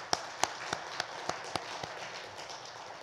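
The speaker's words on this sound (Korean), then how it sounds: "우리 박수로 축하합시다." A church congregation claps in congratulation of its members during a Sunday service: a handful of distinct, spaced claps ring out, sharp at first and then sparser and fainter, over a quiet hall.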